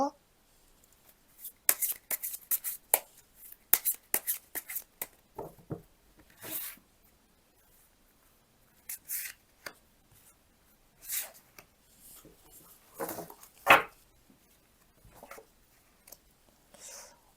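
Tarot cards are shuffled and drawn for a money reading, making crisp papery flicks, slides and taps. They come in clustered bursts separated by quiet pauses, close to the microphone.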